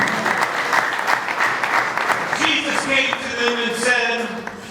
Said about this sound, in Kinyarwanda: ku amashyi menshi cyane